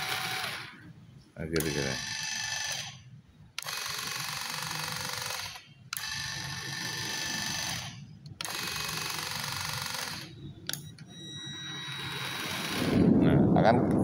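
A 24V ride-on toy car's electric motor runs forward in several bursts of high whining buzz separated by short pauses, close and fairly loud, while a person speaks at times.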